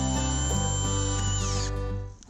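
A power drill whirs steadily at close range for about two seconds, its motor pitch sliding downward as it winds down, with a short clunk at the end.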